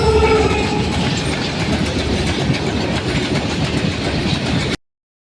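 A train rumbles past a railway station steadily, its wheels clattering over the rails in a dense, loud roar that cuts off abruptly near the end.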